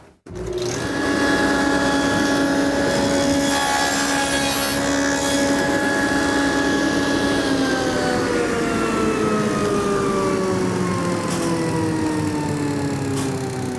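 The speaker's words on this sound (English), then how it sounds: "raise the dado set up another 1/4 inch and make another pass" A Freud dado blade set on a table saw cuts a pass through a board, keeping up a steady loud whine for many seconds. The pitch then sinks slowly as the blade spins down, with no one talking.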